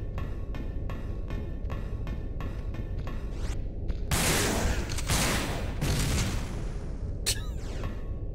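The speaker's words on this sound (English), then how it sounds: "Good explosion." Explosions and gunfire from the Resident Evil Dead Aim shooter game on PS2, played with a light gun: rapid rhythmic shots give way to a loud sustained blast with debris, then a second sharp burst, all close and dense.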